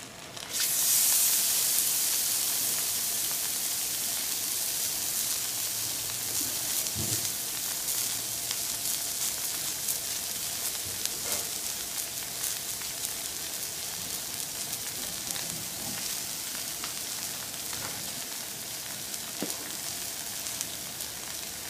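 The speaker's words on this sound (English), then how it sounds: "We're also frying up some potatoes and bell peppers and onions." Potatoes, bell peppers and onions fry in a pan with a steady, hissing sizzle that stays fairly even throughout, marked by occasional soft pops and clicks and no voices.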